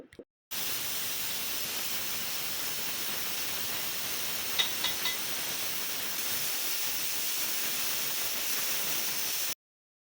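Pressure cooker on a kitchen stove releasing a sustained loud steam hiss, with a brief faint whistle midway, cooking mutton leg soup.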